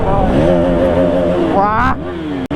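KTM Duke 390 BS4 motorcycles rev loudly up close on a Sunday group ride, the engine pitch climbing and falling before easing off, with voices mixed in.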